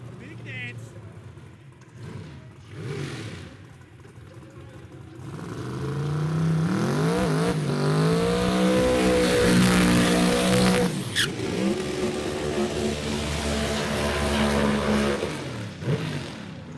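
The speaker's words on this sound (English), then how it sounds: "Bailey McClure's 53 Chev Corvette, 393 cubes of small block Chev" A 1953 Chevrolet Corvette drag car with a 393-cubic-inch small-block Chevy engine, racing at a Sydney drag strip: a loud, sustained engine roar rises and holds through several gear changes, with crowd or commentator talk faintly beneath at the start.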